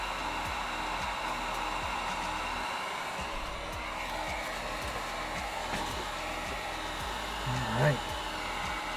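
A heat tool blows continuously over color changing paint, a steady airy whoosh that holds for the whole stretch, with a brief louder bump near the end.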